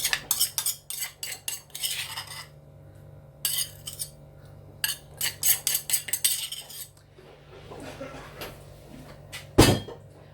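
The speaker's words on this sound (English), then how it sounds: "Scoop all that out" A utensil scrapes a mixture out of a metal cooking pot in a run of quick, clattering strokes with short pauses, close and fairly loud, ending in a single heavier knock.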